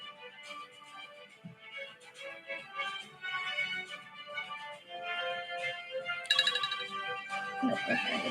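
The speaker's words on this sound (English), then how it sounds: "Sounds like a good trivia theme song." A bright, jingly trivia show theme tune plays at moderate volume, with busy melodic electronic tones and a livelier, brighter passage toward the end.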